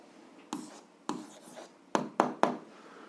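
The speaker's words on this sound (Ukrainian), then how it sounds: "Записуємо відповідь." A pen writes an answer by hand on paper, giving five short scratchy strokes in an uneven rhythm, close and fairly quiet against a faint background hiss, with no voices.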